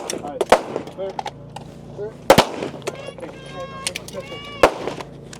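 Gunshots on a women's elite stage of a 2025 Nevada regional shooting competition: three loud, sharp reports spaced a couple of seconds apart, ringing over an outdoor background with a voice speaking between shots.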